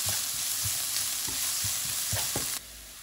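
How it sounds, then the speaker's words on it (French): Onion pieces brown in hot oil in a pan for a chicken masala, a steady close sizzle broken by soft scraping stir clicks until the sizzle abruptly drops away near the end. "Je vais faire dorer l'ensemble. Donc surtout les oignons pendant 2 à 3 minutes."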